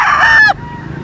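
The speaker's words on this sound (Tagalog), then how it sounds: "Isa lang yan sa mga nagagwapuang manok dito sa Par Amazing." A gamefowl rooster crowing at a game farm, one loud close crow with a strained, drawn-out tone that breaks off sharply, leaving quiet background.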